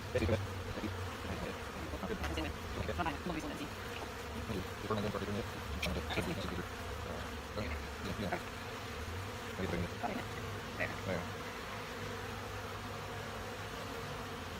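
Honey bees buzz steadily around an open beehive during a June hive inspection, a dense continuous drone of many insects close by, with faint voices in the background.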